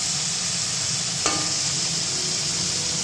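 Cabbage and carrots stir-fried for fried rice, a continuous close sizzle with a single sharp scrape of the spatula against the pan partway through.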